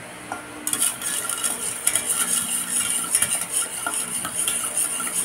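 A spoon stirs a chocolate agar-agar dessert mixture in a pot, with repeated metallic scrapes and clinks against the sides in an uneven rhythm, close and clear, and no one speaking.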